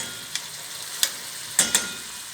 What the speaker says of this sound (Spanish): y dejamos sofreír un ratito